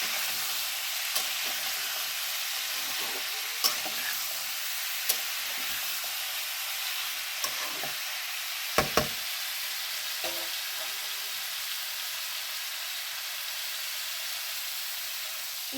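Greens, a small amount of poi (Malabar spinach), frying and being stirred in a pan, with a steady soft sizzle and occasional light knocks and scrapes of the spoon, heard alone with no talk.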